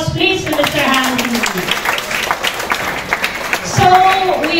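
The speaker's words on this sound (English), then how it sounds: "A big round of applause, please, to Mr. Hanky" A hotel event audience gives a round of applause, with brisk clapping from many hands between stretches of a speaker's amplified voice at the start and the end.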